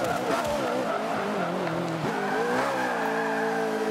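Ariel Atom V8 in Forza Motorsport 5, its engine whining through rising and falling revs while tires squeal and skid steadily throughout, loud and close with no talk over it.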